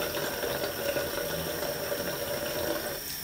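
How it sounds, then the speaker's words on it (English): Hot water running steadily from a sink tap, a constant hiss and splash close by, with no one speaking. "turn on the water"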